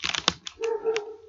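A neighbor's dog heard in a short burst: a few quick sharp yelps followed by a drawn-out whining howl, fairly close and loud, with no talking over it.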